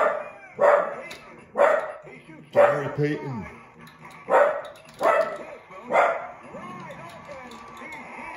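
An excited dog barks repeatedly nearby in a regular series of sharp, loud barks about a second apart, with someone talking over them.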